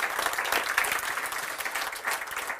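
Steady applause from a crowd, dense clapping that holds at an even level throughout with no pauses.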